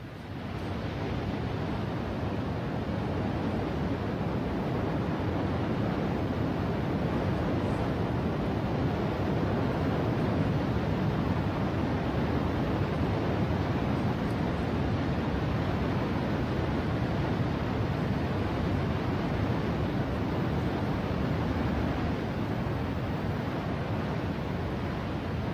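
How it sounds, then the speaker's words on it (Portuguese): The deafening roar of Sanjo Falls in Oze, Japan, where waters pour down toward the Tadame River, is a dense, unbroken wash of rushing water, steady and loud with no voices. "Um pouco abaixo da cachoeira de Hiranami está a cachoeira de Sanjo, com seu barulho ensurdecedor."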